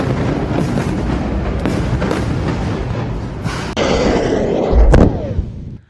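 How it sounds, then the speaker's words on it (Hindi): Heavy booming blasts of exploding explosive-filled missiles over a dense rumbling roar, with a sharp, louder detonation near the end before the sound cuts off. "बारूद से भरी मिसाइलें फटी"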